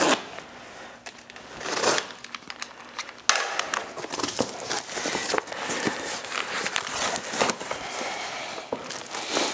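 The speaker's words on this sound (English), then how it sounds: "Let's get the boxes cut open and see what's in here." Cardboard boxes holding an AHP AlphaTIG welder are cut open and unpacked, with close crinkling, crunching and scraping of cardboard and packing material in irregular bursts, with no talk.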